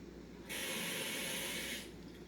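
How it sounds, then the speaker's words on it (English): Cold tap water rushes through a faucet diverter valve as a steady, faint hiss that starts abruptly and stops after about a second and a half, with no talking. "Now that your unit is installed, let's turn on the water"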